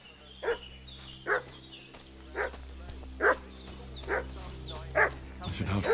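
In the medieval game Kingdom Come Deliverance II, a dog barks steadily, about seven single barks spaced roughly a second apart, moderately distant over a low ambient hum.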